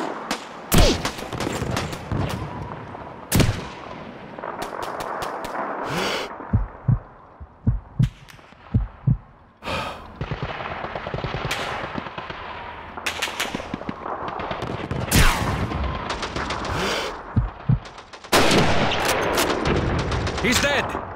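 Rapid gunfire from World War II weapons in Call of Duty 2's Russian campaign during a city hall battle, with sharp single shots and bursts, loud and close, over a continuous roar of distant combat.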